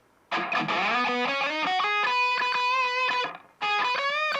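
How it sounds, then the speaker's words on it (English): Electric lead guitar run through a cloner doubler effect, playing a distorted melodic line of sustained, bending notes with a thick duplicated tone, pausing briefly before the phrase resumes, loud and with no voices. "I added a cloner, which essentially just duplicates. It's like a doubler, essentially. So it makes it sound like this."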